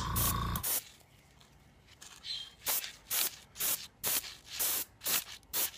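Repeated short bursts of dark brown aerosol dye sprayed onto deerskin, about eight hissing puffs in a steady rhythm, close and fairly loud, separated by brief quiet gaps.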